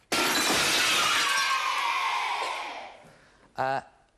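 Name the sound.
crystal ball smashing, glass shattering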